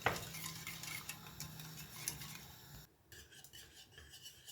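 A spoon scrapes and stirs pudding in a pot for a Turkish snow dessert, giving a continuous close rasping rub that drops quieter near the end.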